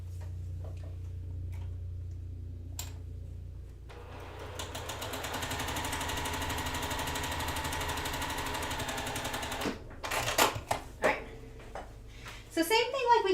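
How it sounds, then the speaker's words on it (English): A sewing machine stitches down a drawn line, its needle running in a rapid steady tick-like rhythm for several seconds, close and moderately loud, then stopping before some handling noises. "We sew down that line we just drew."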